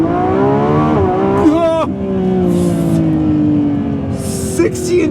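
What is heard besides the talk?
Lamborghini Revuelto launching in thrust mode, 0 to 60 acceleration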